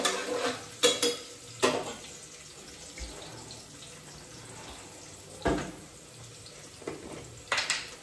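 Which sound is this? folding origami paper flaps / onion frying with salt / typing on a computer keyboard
onion frying with salt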